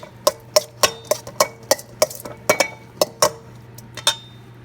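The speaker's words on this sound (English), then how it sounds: "Mix it all up." A utensil clinks rhythmically against a bowl while chicken, spices and chili are stirred together, about a dozen bright metallic taps at a steady pace, close and alone without talk.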